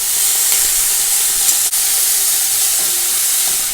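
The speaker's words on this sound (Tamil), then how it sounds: "அவரைக்காய் போட்டு வதக்க வேண்டியதான்" Broad beans sautéing in a pan, a steady close hiss and sizzle with a brief soft clatter partway through, no voices.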